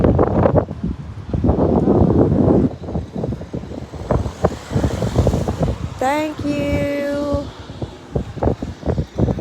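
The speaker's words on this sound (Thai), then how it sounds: "ลมแรงมาก A lot of wind." Strong wind gusts outdoors beside a roadside near a workplace, a steady loud rush with rustling bursts throughout and a brief rising tonal whistle midway, with voices faintly in the mix.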